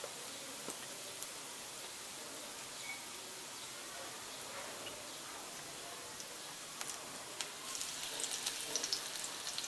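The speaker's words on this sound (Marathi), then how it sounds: "अशा पद्धतीने सर्व मच्छी आपण फ्राय करून घेणार आहोत" Rawas fish pieces coated in rice flour frying in a pan, a faint, steady crackling sizzle with small popping spatters that grow a little busier toward the end.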